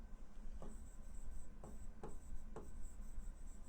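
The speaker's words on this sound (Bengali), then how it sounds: "স্পষ্ট লিখে নিলাম।" Marker or chalk strokes on a classroom board, a few short scratchy squeaks spaced irregularly over a faint steady background hum.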